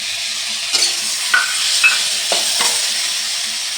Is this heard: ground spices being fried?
yes